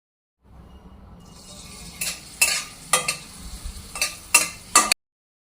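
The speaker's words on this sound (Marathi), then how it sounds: "याच कढईत सवा वाटी बारीक रवा तुपात भाजून घेऊयात" Fine semolina roasting in ghee in a wok: a soft sizzle builds, then a spatula scrapes and knocks against the pan in six distinct strokes, close and clear.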